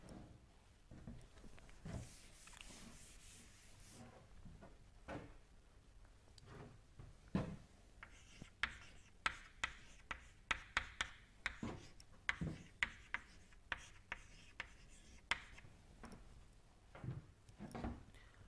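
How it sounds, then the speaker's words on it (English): Chalk or pen writing out a Navier-Stokes equation during a fluid mechanics lecture, a series of quiet taps and scratching strokes in an irregular rhythm, close and soft with no talk. "let me write at the top"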